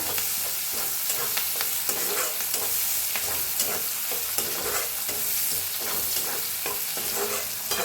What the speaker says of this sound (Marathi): कढीपत्ता चांगलं भाजून घेऊया कांद्याला